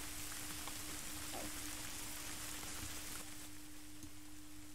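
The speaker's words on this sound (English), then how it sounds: "It was getting a bit loud, the rain noises." Rain falls in a soft, steady wash of hiss, quiet and continuous, with a faint tonal hum running underneath.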